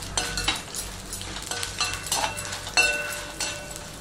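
Chana dal and urad dal fry in a pan for tomato chutney, giving a soft bed of sizzle broken by repeated light scrapes and clinks of a spoon stirring against the metal, moderately close and steady.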